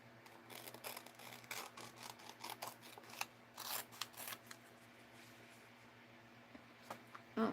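Scissors trimming paper for mixed-media collage work, a quiet, close run of rapid snips and crisp cuts in an irregular rhythm with no talking.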